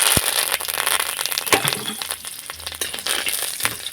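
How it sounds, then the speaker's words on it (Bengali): Mustard seeds, white sesame, a dried red chilli and curry leaves crackling in a little oil in a kadai, a dense continuous sizzle with scattered pops and spoon taps throughout. "কড়াই দিব আমি সাদা তেল সামান্য একটুখানি দিয়ে দেবো গোটা সর্ষে আর একটুখানি দেবো সাদা তিল আর দিয়ে দেবো একটা শুকনো লঙ্কা"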